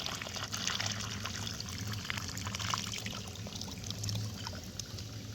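Water pours steadily from a hose into a storage tank, a continuous close splashing trickle that runs unbroken from start to end with no talk over it.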